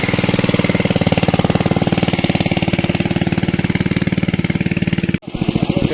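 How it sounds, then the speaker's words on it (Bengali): A pump machine engine runs loud and close beside a pond, a steady rapid chugging beat throughout with a brief dropout near the end before it carries on. "এই দেখুন মেশিন স্টার্ট হয়ে গেছে।"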